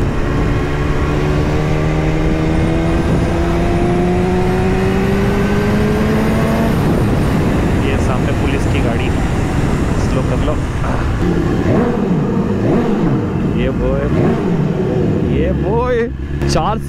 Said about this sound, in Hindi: रेस ट्रैक पे, काफ़ी गाड़ियाँ हैं आज तो।